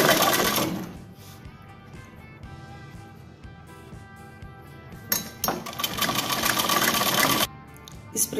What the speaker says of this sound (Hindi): इस प्रकार बाजू का कपड़ा कमीज के कपड़े के ऊपर रख करके इसको हम एंड तक सिलाई लगा देते हैं